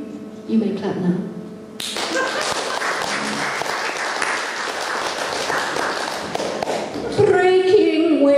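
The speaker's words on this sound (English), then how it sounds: "You may clap now." An audience at a folk concert applauses after a song. A brief voice comes first, then a dense, steady wash of clapping that carries on for several seconds, with some talk near the end.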